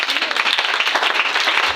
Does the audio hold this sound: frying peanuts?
no